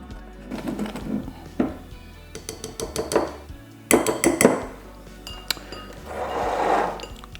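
Eggs gently whisked into flan batter in a bowl, with irregular clinks and scrapes of utensil against the bowl, a few sharper taps and a soft swirling stir toward the end, close and moderate.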